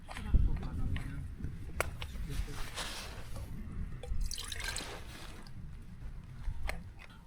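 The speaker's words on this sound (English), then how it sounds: "Another splash of water." Water splashes and trickles into a camping pot being rinsed at a windy campsite, with wind noise and a few clinks of the metal pot throughout.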